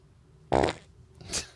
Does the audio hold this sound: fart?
yes